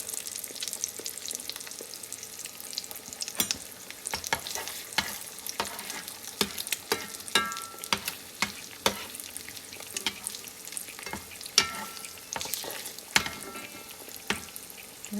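Eggs frying in a pan, a close crackling sizzle with rapid popping spatters throughout, no voices.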